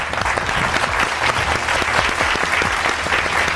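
A crowd claps steadily and enthusiastically at a junior music contest, a dense wash of applause that holds at an even level throughout.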